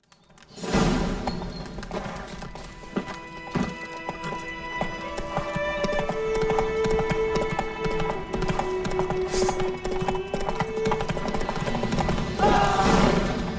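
Geralt's horse Roach from The Witcher 3 galloping, rhythmic hoof clip-clop running steadily and growing louder, with a whinny and scattered thuds over game ambience and music.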